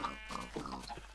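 Pigs in the Minecraft video game give a few short, close oinks and grunts in quick succession.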